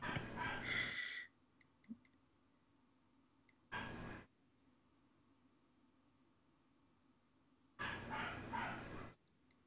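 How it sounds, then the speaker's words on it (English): A dog barks in three separate bursts, each around a second long, with quiet stretches of low background hum between them. "Yeah, I can hear the dog."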